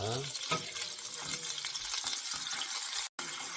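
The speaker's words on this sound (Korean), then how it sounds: "잘 저어줍니다. 버터가 잘 녹게." Butter and garlic sizzle softly in a pan while being stirred, giving a faint, steady frying hiss with light scraping sounds and a brief clink near the end.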